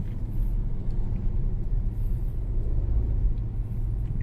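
Interior cabin rumble of a Mitsubishi Xpander Exceed with automatic transmission on a test drive, a steady low road and engine drone, constant and even throughout.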